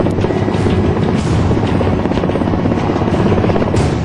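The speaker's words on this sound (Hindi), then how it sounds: "देश के नए रक्षा मंत्री राजनाथ सिंह ने वायुसेना के हेलीकॉप्टर से अपना पहला दौरा सियाचिन ग्लेशियर का किया" An Air Force helicopter at Siachen Glacier runs loud and close, a steady, continuous rotor and engine roar with no talk over it.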